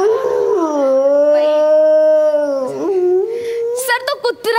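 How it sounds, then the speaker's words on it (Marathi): Drawn-out, loud, close howl from a dog, sliding in pitch and holding a long tone before breaking into short whimpering yelps at the end; voices are present. "सर, तो कुत्रा आहे."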